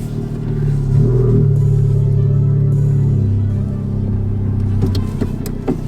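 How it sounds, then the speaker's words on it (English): A Honda Civic Type R FK8 on a short test drive, its engine a loud steady interior drone that swells as it revs up and settles, with a low road rumble underneath. "I'm gonna take a quick test drive really quick with the new shifter"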